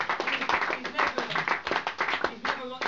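Dinner guests at a 2009 end-of-season dinner clap for a third place winner, steady close clapping mixed with loud overlapping chatter and cheers throughout.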